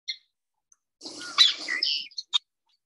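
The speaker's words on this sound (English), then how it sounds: "so that was a king rail" A single harsh, raspy king rail call rises out of silence, a loud grunting burst followed by a couple of short sharp clicks, fairly close.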